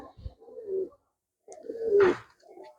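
Two soft, low pigeon coos close by, each a rounded throaty call, separated by a short silence.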